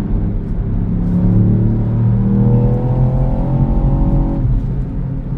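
A Ford Puma ST engine drones loudly and steadily from inside the car through a small bend, its pitch rising gently and then easing off, with road rumble underneath.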